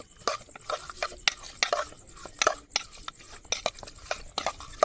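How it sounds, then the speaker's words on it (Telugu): Chicken mixed with chili powder being stirred in a bowl at a hillside night campsite, with a quick series of close scraping and clinking strokes of a utensil against the dish. "ఇలా కలుపుకొని ఒక 5 నిమిషాలు అయితే సైడ్ పెట్టుకుందాం"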